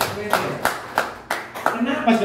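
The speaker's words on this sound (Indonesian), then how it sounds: "tepuk tangan dulu buat Bu dokter" A seminar audience claps for a doctor at a business training session, short sharp rhythmic claps in a few bursts, close by, with a voice speaking between them.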